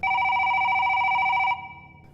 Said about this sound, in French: Quand le téléphone vient le tirer de ses pensées.